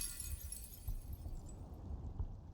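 In the underwater game SILT, a blockhead creature smashes a glass wall, giving a faint, muffled shattering crash over low rumbling, with a few dull thumps following.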